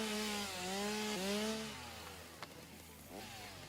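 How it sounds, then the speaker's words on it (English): A chainsaw in the video game Satisfactory cuts with a steady motor whine that rises and dips in pitch, fairly quiet and alone, with a short sharp knock near the end. "Can I chainsaw this and get rid of it?"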